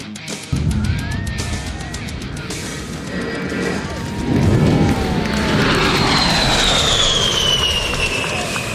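An A-10 Thunderbolt II jet making an attack pass at an air show, its loud engine roar building and swelling as it sweeps overhead, with a rising whine and a broad rumble filling the air.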